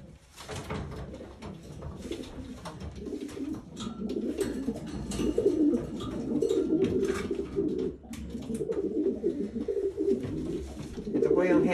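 A breeding pair of Morris Gordon pigeons coo close by in low, rolling, throaty phrases that repeat steadily, with faint rustling and a brief soft knock partway through.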